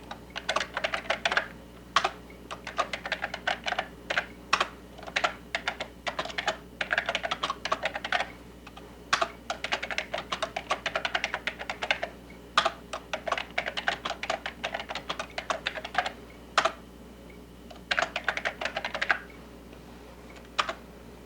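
Computer keyboard typing a short list in Word 6.0 for Windows: bursts of quick, crisp key clicks in irregular runs with brief pauses, close and clear with no talking.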